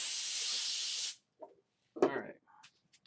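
A blast of compressed air blows across a stone to dry it, a loud steady hiss lasting about a second before cutting off, followed by brief speech.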